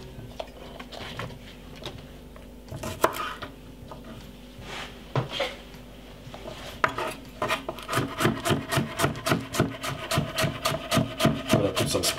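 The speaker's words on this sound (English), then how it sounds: "I'm cutting up some cucumber." Knife chopping cucumber on a wooden board, starting with scattered cuts and scraping, then settling into a steady, fast run of close, crisp chops toward the end, with no talking.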